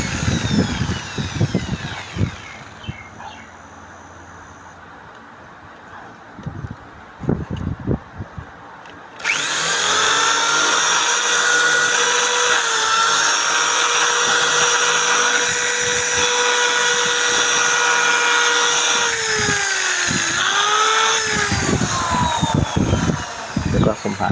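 A power drill bores into a plastic trimmer line head for a grass cutter. Scattered knocks and handling noises come first, then a steady, loud, high whine runs for about fifteen seconds with brief pitch dips as the bit bites in.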